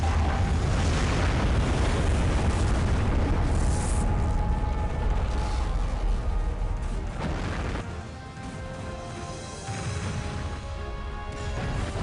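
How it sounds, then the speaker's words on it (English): A torpedo strikes and destroys the Kirov warship in the space combat game Starlancer, a long roaring explosion with crashing debris that rumbles loudly, then tapers off. "Direct hit on the Kirov, sir. She has been destroyed."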